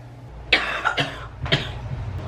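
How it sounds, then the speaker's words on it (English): Three sharp coughs from one person lying propped up, spaced about half a second apart, close and fairly loud over a low steady hum, with no talking. "I'm gonna try propping myself up so I don't cough so much."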